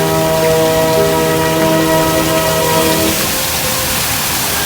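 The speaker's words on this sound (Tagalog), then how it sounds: "Agos na naman yung tubig." A fountain in the Fairy Tale Forest at Hong Kong Disneyland gushes back on, a loud, steady rush of flowing water that fills the scene, with a tonal hum fading out partway through.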